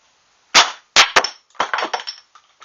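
A Nerf Mega blaster fitted with a worker barrel fires in a sharp, loud mechanical pop, followed by a few quick clacks and rattles that fade out close by.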